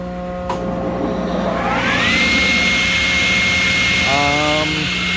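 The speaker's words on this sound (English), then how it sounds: "I'll come over here to a 5 horsepower table saw" A three-phase 5 horsepower table saw powered through a DIY phase converter spins up with a rising whine into a steady loud hum, then a brief wobbling tone near the end over a constant electrical drone.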